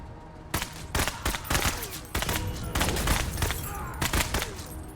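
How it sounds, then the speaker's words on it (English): Rapid gunfire in the video game MENACE, dense bursts of shots cracking repeatedly over a continuous battle din, loud and sustained throughout with no talk. "now we can fire on the enemy"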